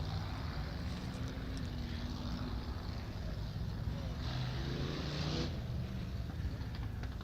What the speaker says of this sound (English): Rumble of V8s in the background we can hear is the monster trucks